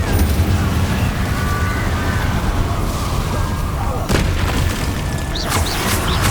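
Confringo fire-blast spell explosions in Hogwarts Legacy, a video game, come as deep rumbling booms over a dense, continuous layer of game combat noise, with sharper bursts standing out near the end.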